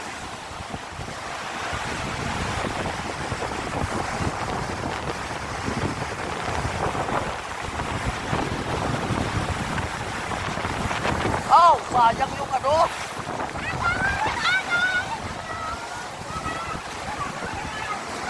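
Sea waves and surging water wash over the Molo boulevard in Iloilo City, a continuous roar of surf mixed with buffeting wind, while people talk and exclaim nearby.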